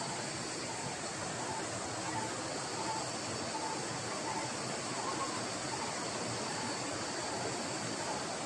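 A stream runs steadily over rocks in Paralikadu forest, a broad, constant rush of flowing water close by with no break or change in level.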